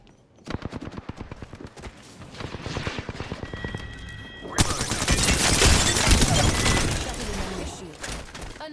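Rapid automatic gunfire in Apex Legends crackles in a fast stream, then swells into a louder, denser barrage with shattering impacts, and a voice talks briefly underneath.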